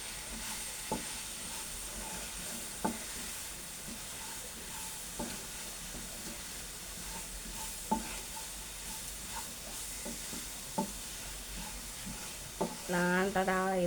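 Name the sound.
stirring onion curry (ullicurry) masala in a pan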